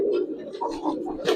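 Giribaz pigeons coo softly up close, a low, throaty murmur that swells and falls over a second and a half.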